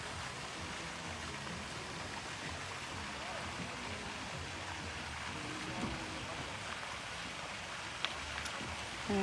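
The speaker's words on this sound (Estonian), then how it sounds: "Ta sajab meil natukene." Light rain falls steadily as a soft, even hiss at a distance outdoors during a competition, with faint sounds and occasional voices under it.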